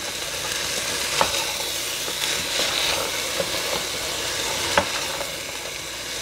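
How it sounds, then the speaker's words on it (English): Drained mixed beans being stirred in a pot, a steady low sizzle underneath occasional scraping knocks of the spoon against the pot, close and moderately loud, with no voices. "Let me give that a little bit of a stir."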